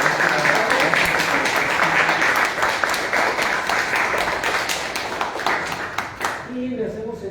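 Seminar audience applauding at Casa Libertad, a sustained round of many hands clapping with voices underneath, fading out at the end.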